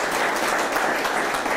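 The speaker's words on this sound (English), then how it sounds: "now that we're all warmed up on the applause" Audience applause at a Ride for Dad charity kickoff and proceeds presentation in Kingston, a dense, steady burst of many hands clapping, loud and close, with no voices.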